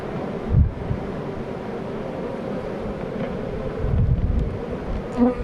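Honey bees buzzing around a beehive, a dense continuous drone of many insects close to the microphone, with occasional wind bumps.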